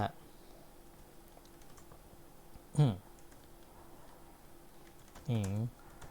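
Quiet, faint clicking of a computer keyboard while coding in PHP, interrupted twice by brief vocal sounds.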